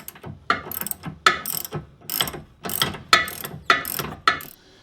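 A ratchet backs out the 16mm bolt holding the sway bar end link to the sway bar on a Mk4, close and crisp, cranked in about nine quick rhythmic strokes of clicking with no talk.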